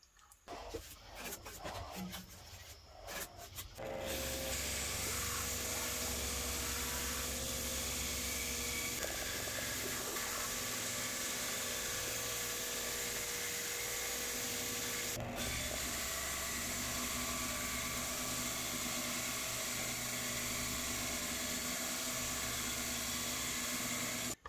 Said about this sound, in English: Now let's cut some padauk.